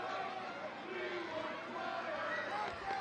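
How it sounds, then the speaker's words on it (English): A soccer crowd in an Oakland Roots SC versus Tampa Bay Rowdies match keeps up a dense, steady roar of chanting voices, broad and sustained throughout, with no clear individual words standing out. "Can hear those chants from the crowd."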